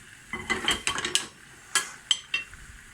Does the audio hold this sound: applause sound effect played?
no